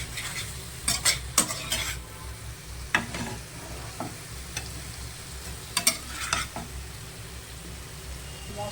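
Chopped tomato goes into a frying pan with eggplant and spices, giving a low steady sizzle, with a spoon scraping and clinking against the pan in short bursts.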